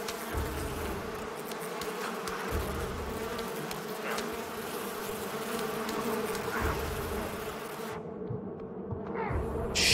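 Insect-like buzzing of bees in the Far Cry 5 video game, a steady droning swarm holding close and fairly loud throughout, with the sound dropping out briefly near the end.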